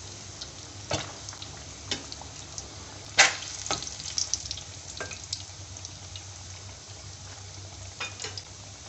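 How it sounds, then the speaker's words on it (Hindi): Egg pakora deep-frying in hot oil, a steady low sizzle with scattered bubbling pops and a few sharper spattering bursts, no voices. "इसे मैं लाइट गोल्डन ब्राउन होने तक फ्राई करूँगी और इसे निकाल लूँगी"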